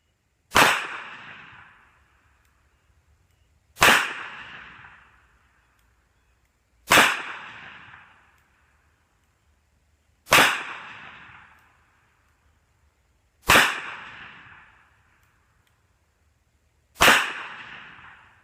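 A Ruger Redhawk revolver chambered for .45 ACP and .45 Colt fires six sharp, booming shots, evenly spaced about three seconds apart, each decaying quickly into silence.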